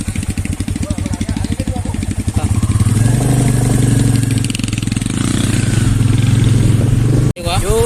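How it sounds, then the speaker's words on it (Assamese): A motorcycle engine runs close by on a ride, first pulsing unevenly, then revving up into a strong steady drone that holds loud until an abrupt cut near the end. "বাইক চলোৱা"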